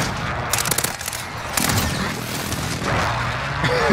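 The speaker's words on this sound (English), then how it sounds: "Friendly precision airstrike inbound." Call of Duty precision airstrike in a Search and Destroy match on Rust: dense bursts of gunfire and booming explosions that roll on continuously at close range for several seconds, no talk.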